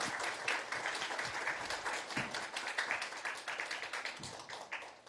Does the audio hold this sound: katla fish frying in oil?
no